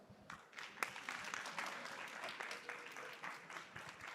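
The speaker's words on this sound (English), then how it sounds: "Please give him a round of applause." Symposium audience at an occupational safety and health conference claps to welcome a session chair, scattered individual claps at moderate distance, fairly quiet and spreading into a loose round of applause.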